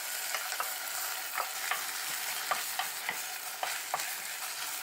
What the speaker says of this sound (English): Fry kimchi and onion for about 5 minutes.